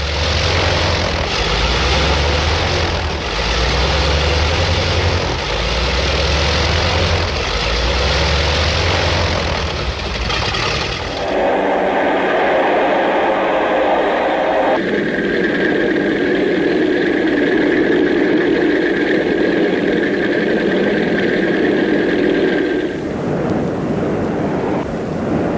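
A World War II Pacific carrier warplane with folding wings runs its propeller engine before takeoff, a loud, steady roar that shifts in tone midway, with wind and sea noise and no talk.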